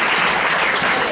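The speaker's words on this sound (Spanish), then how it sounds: "Denle un aplauso a este muchacho" Loud, dense applause from a church congregation for a young man, continuous clapping filling the whole short moment with no gaps.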